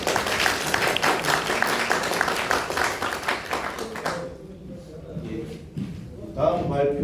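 Dense applause from an audience after a presentation at a Korean technical seminar on power conversion. It is steady for about four seconds, then thins out as a voice begins talking over the quieter room.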